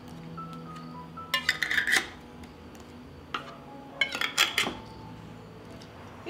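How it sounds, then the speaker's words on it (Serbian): New clean lids being closed onto glass jars filled with sugar syrup for home preserving, heard as two short bursts of clinking and scraping metal on glass over a quiet room background. "I na kraju tegle zatvaram sa čistim i novim poklopcima."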